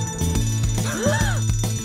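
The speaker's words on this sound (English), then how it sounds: "Hear that fire alarm, Ashley's called away." A fire alarm rings in a children's cartoon about a garage: repeated bright bell-like tones pulse over cartoon music, with a swooping siren-like tone rising and falling in the middle.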